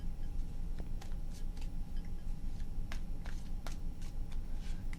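Tarot cards shuffled by hand in three passes, soft papery riffles and flicks over a steady low background hum, fairly quiet and close.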